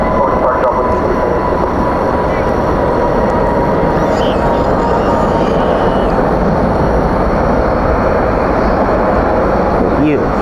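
A Boeing 777 landing at DFW at night gives a loud, constant rumbling roar as spoilers rise and thrust reversers deploy, sustained and steady throughout.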